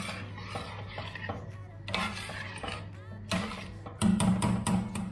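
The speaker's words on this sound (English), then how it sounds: "Scrape that off" Food is scraped off a pan while cooking seafood rice, with rough, rasping scrapes that come in bursts and grow louder toward the end over a low background hum.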